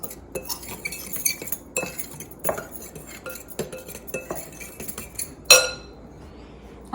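A spoon clinks against a bowl while mixing cornstarch and all-purpose flour. The taps and scrapes come in an irregular rhythm, close and moderately loud, with one sharper knock near the end.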